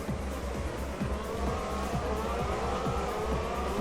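A pack of race cars in a sim racing game launches at the start of the American Grand Prix, a dense steady roar of engines rising in pitch with tire squeal over it, loud and continuous.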